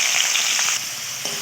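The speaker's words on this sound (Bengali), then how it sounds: "কড়াইয়ে তেল দিলাম, তেলটা গরম হয়ে গেছে। এবার এর মধ্যে আমি চিংড়ি মাছটা ভেজে নেব।" Shrimp frying in hot oil in a wok, a dense, even sizzle up close with a couple of faint shifts as the pieces settle.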